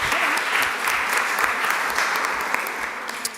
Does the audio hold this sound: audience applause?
yes